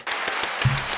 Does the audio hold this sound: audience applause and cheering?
yes